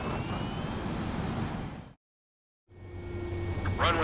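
A jet aircraft in Ace Combat 7 comes in to land with a steady, close engine roar and whine, cut by a brief total silence, then resuming with rising whistling tones near the end.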